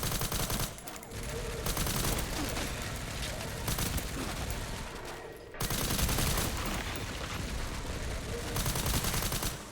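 Sustained machine gun fire rages in Resident Evil 9 inside a skyscraper, a loud, dense barrage of rapid shots that runs nearly continuously, briefly dropping out before resuming at full intensity.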